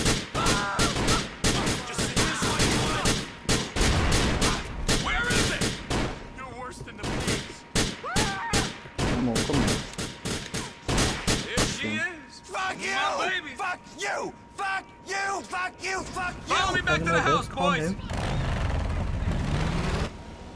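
Pistol gunfire in the video game GTA The Lost and Damned, rapid bursts of sharp shots over a game soundscape, with someone talking throughout.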